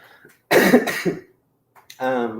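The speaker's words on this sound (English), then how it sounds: "I have a cough. Not a COVID cough." A single harsh cough bursts out, followed after a pause by a short stretch of speech.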